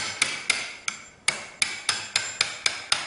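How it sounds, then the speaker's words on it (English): Light hammer taps seating the mast of a Hobie Turbo Fins drive, about ten crisp, close metallic knocks in an uneven rhythm with short gaps between them, and no talking. "I usually like to use a hammer to give it a couple light taps"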